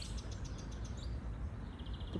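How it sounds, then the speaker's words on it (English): Faint spring birdsong outdoors in nature, with soft high chirps and short tweets repeating over a quiet, breezy background, distant and gentle. "the singing of the birds"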